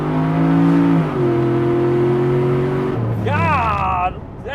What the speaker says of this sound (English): The turbo is amazing on this truck.